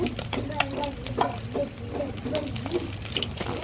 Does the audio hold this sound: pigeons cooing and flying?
no